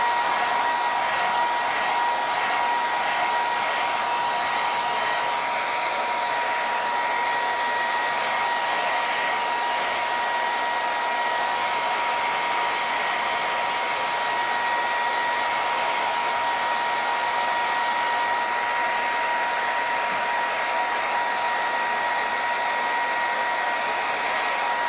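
A hair dryer drying watercolour paper blows continuously at full power, a loud steady whooshing drone with a faint whine, unchanging for the whole stretch.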